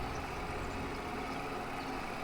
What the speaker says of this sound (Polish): Ale Zetor na obroty wszedł.